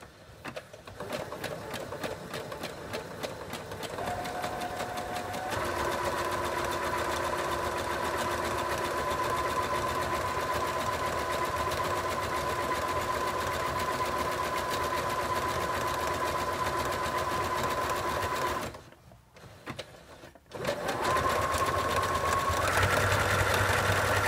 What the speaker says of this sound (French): on va les coudre ensemble avec un point zigzag tout autour pour pouvoir avoir un seul